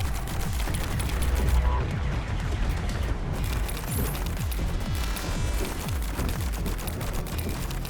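Sustained gunfire from a weapon in the co-op third-person shooter Warden's Will, rapid repeated shots and impacts layered over loud game effects and music, dense and continuous throughout.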